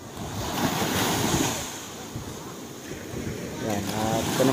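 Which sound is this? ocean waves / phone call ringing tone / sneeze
ocean waves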